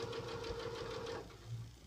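A sewing machine stitches across the bottom of fabric, a steady fast mechanical whir-and-knock running about a second before stopping, close and fairly quiet.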